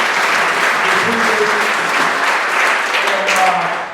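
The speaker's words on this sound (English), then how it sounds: "please, another round for Daniel" Sustained applause from a crowd, steady clapping throughout with a few faint voices mixed in, fairly loud and close.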